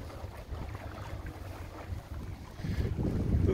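A Compac 19 sailboat under sail with the wind on the beam, giving a steady low rush of wind and water that swells louder toward the end, with microphone buffeting and no talking.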